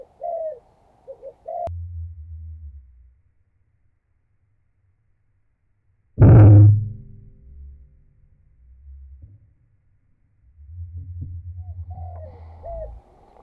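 A spotted dove, or tekukur, gives soft low coos at a long-range air-rifle shooting range. A sharp close report and quiet stretches break up the calls.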